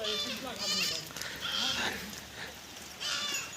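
Several goats bleat in short wavering calls on a goat farm in light rain while eating fodder, close and loud, mixed with other animal cries and outdoor ambience.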